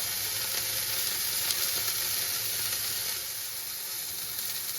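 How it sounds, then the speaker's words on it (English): A beef patty for a patty melt sizzles steadily in a hot pan, a continuous close, even frying hiss with slight crackle that holds throughout and eases a little toward the end. "And we're going to continue cooking this side now for another 3 minutes or so."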